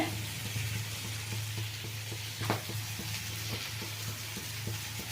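Horse gram soup (upsaru) simmers in a clay pot on a stove, giving a soft, steady bubbling sizzle with a low hum beneath and occasional small pops, quiet and close.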